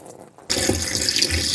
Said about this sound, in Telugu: మన స్విమ్మింగ్ పూల్ లోకి నీళ్ళు వదిలేద్దాం.